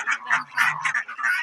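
Domestic ducks or geese quack and honk in quick repeated calls, close and fairly loud, with no talk over them.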